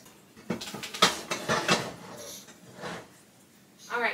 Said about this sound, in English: So these are the pans that I got from Target.